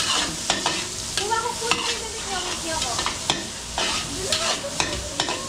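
Chopped garlic and onion frying in oil in a pan, a steady close sizzle broken by repeated scraping and clinking as a spatula stirs them every second or so.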